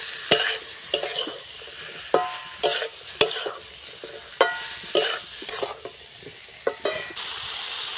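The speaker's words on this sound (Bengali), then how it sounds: "এরপর দিয়ে দিচ্ছি ব্রোকলিগুলো, ভালো করে মিশিয়ে নেব।" A spatula stirs broccoli and potatoes together in a frying pan for a vegetarian broccoli aloo dum, giving about a dozen irregular scraping strokes over a steady soft sizzle, close and alone.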